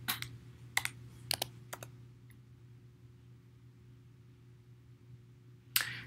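Keys tapped on a computer keyboard while entering numbers, a few quick bursts of clicks near the start, then a long quiet hum and one last keystroke near the end.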